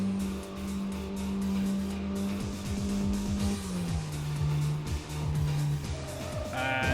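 A car in the Tokyo Xtreme Racer game drifting and crashing in practice mode, a sustained engine drone that shifts pitch as the car slides, with repeated thumping impacts scattered through and rising revs at the end.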